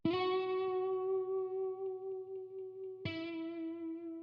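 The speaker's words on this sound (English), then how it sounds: "So without any effects, this is what the guitar sounds like." A dry electric guitar in a music mix with no effects applied, two sustained notes or chords each plucked once and ringing out clearly, the second struck about three seconds in.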